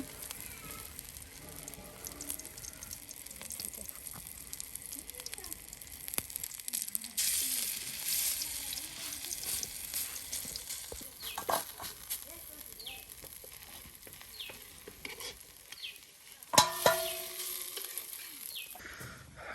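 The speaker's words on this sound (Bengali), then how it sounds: "একের পর এক এই যে বড়া তেলে দিয়ে দিচ্ছে" Drumstick flower fritters battered and dropped one after another into hot oil for a traditional Sherpur dish, a steady soft sizzle and crackle running throughout, with occasional clinks and a voice speaking over the frying.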